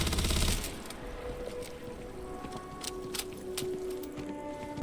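Gunfire and explosions from the video game Battlefield 6: a loud burst at the start, then scattered sharp shots and bangs over a steady rumbling din.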